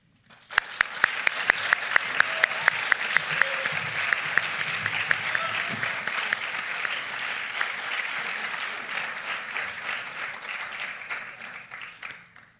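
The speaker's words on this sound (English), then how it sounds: "We're going to give another round of applause to all of our student reciters from round one." An audience at a student poetry recitation competition bursts into sustained applause, opening with a few sharp individual claps before settling into a dense, steady roar of clapping that lasts about twelve seconds and fades slightly at the end.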